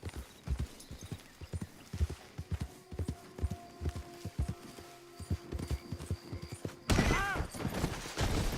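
Horse hooves clip-clop at a steady trot in Red Dead Redemption 2, close and fairly loud, then a short crash or clatter near the end; no one speaks.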